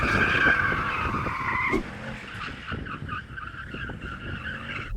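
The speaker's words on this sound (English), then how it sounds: "This BMW has a clever all-wheel drive system, which I can just put it into 2-wheel drive mode. Then you can do some skids." A BMW M8 Gran Coupe Competition switched to rear-wheel drive skids its tyres, a loud, sustained squeal that cuts off sharply and gives way to quieter engine rumble and lighter tyre chirps.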